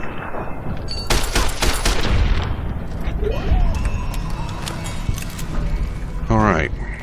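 Bursts of rapid gunfire from a video game shootout ring out loud and close, with sharp cracks and some rattling, followed by a louder burst near the end.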